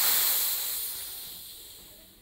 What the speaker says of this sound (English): Push down on the shader valve.